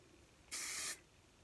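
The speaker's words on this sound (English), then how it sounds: "I am going to do a little bit of a spray. I'm going to use this Aussie hairspray." Aussie hairspray aerosol sprayed onto the bangs of a wig, one steady hissing burst of about half a second, close and loud against a quiet room.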